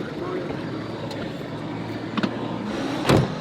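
Car driving along a road in Afghanistan with a steady engine and road rumble from inside the cabin, broken by a few brief knocks and a louder thump near the end, while voices talk over it.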